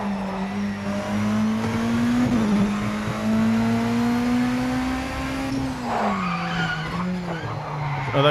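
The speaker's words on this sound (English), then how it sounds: "Oh, those tyres lock up quite easy." Race car tyres lock up and skid in the Project Motor Racing sim on PS5, a long, loud tire squeal over a droning engine note that dips and shifts near the end.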